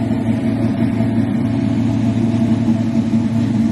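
A car engine idling steadily, a constant low rumbling drone, close and loud with no change in pitch or revving and no voices.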